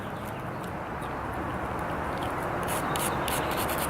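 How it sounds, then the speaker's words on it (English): A fine-bristled stainless steel wire brush scrubs grime off a lawn mower part, making a steady, close, dense rasping that runs on without a break. "Little wire brush. This has fairly fine stainless steel bristles. I'll poke it in here like this."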